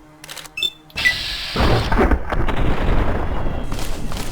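In Fallout: New Vegas, a deep, rumbling blast erupts and rolls on into a sustained roar of debris, following a few faint clicks and a brief chime.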